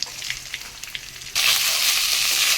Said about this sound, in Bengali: চালটা দিয়ে দিয়েছি এখন একটু ভেজে নেব তো চালটা